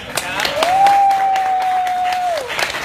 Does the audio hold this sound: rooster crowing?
no